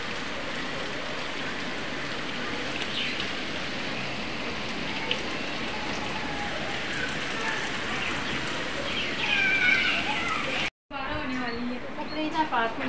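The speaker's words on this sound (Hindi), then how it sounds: "यहाँ से सही नज़र आ रहा है कि बारिश तेज कितनी कैसी हो रही है।" Heavy rain pours in a dense, steady hiss, with voices talking faintly underneath.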